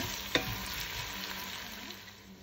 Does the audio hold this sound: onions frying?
yes